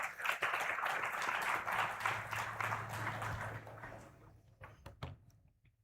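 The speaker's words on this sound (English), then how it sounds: "A huge round of applause for Ms." An audience at a valedictory conference session applauds in a dense, sustained burst of many hands clapping, fairly loud at first and then thinning out and fading over several seconds.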